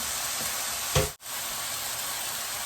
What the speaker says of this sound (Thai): นี่ค่ะย่าง ย่างไม่นานนะคะ